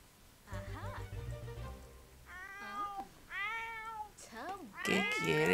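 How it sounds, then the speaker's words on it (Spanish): A cat meowing in The Sims 4 game, several rising and falling meows growing louder toward the end, with a low rumble early on and quiet background sound. "Mira, gatito."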